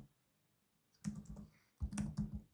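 Two short clusters of clicking keystrokes on a computer keyboard as code is typed, close and fairly quiet, with a silent pause before each burst.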